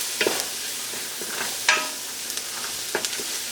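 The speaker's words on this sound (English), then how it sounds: "Just saute the garlic by itself or with the onions for about a minute" Garlic and onions sauté in a pan for a vegan Cajun pasta, with a steady close sizzle broken by several sharp scrapes and clacks of a utensil stirring against the pan.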